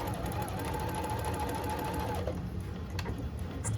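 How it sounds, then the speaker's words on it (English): A sewing machine runs a straight stitch along the centre back seam of lingerie upper back panels, a steady close whirring hum that carries on throughout, with a brief pause and a click near the end. "Now we're going to sew the center back seam of the upper back panels. You can use a straight stitch for this"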